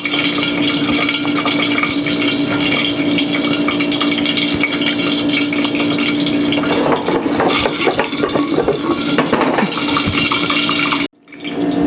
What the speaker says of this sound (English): It wasn't from the popcorn, it's from the oil.